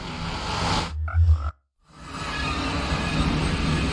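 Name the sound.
frogs croaking in video game Minecraft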